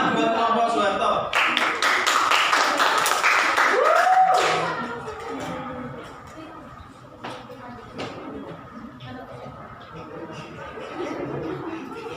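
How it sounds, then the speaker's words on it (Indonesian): A classroom bursts into applause for the student group Soeharto: dense clapping for about four seconds, then it fades into quieter room noise and scattered murmurs. "Tepuk tangan buat kelompok Soeharto."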